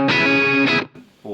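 Electric guitar played through a Mercuriall SS-11X amp plugin with an Ownhammer 4x10 cabinet impulse response: a sustained distorted chord rings out, is briefly re-struck, cuts off, then another chord starts.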